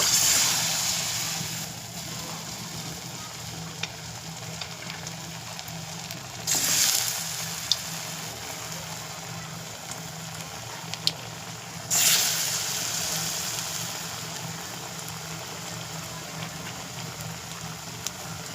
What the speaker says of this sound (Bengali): আমি একে হালকা করে একটু ভেজে নেব, নাড়িয়ে চাড়িয়ে।